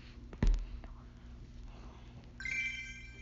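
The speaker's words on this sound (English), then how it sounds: "that was another phone" A telephone ringtone starts partway through, a steady electronic ring that runs to the end over quiet room noise, after an earlier brief thump.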